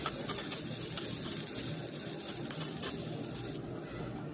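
Onion and curry leaves fry in a pan with dried red chili, a quiet continuous sizzle broken by occasional stirring scrapes and clicks, with no one talking.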